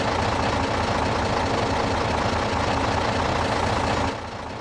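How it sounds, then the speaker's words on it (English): A loud truck engine in Farming Simulator 22 idles with a dense, rough rumble that holds steady, then drops suddenly in volume near the end. "This is the loud truck, so apologies."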